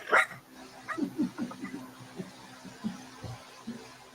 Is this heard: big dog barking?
yes